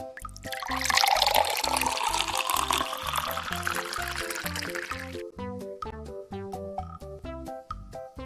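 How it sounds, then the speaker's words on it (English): Water pours steadily into a glass for several seconds, a bright continuous splash rising in pitch as it fills, over a plucky background melody, then stops while the music carries on. "pouring water in a glass"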